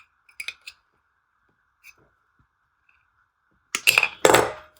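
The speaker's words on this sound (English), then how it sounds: "Now, this is useless, so we'll just cut this." Cutters snip through electrical wire during repair work on a 1998-2003 Jaguar XJ8 (X308), giving a few faint clicks early on, then two loud close crunching cuts near the end.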